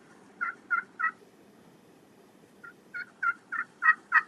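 Turkey hens feeding in a food plot give short yelps, a quick run of three, a pause, then a steadier series of six or so, moderately near against a quiet background.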